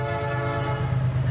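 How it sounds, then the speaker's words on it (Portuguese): A heavy locomotive passing through a city sounds a loud, sustained horn, a steady deep blare that holds for the whole moment over a low rumble. "Uma locomotiva como essa pesa centenas de toneladas."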